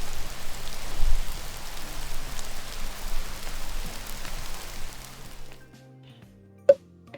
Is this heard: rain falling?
yes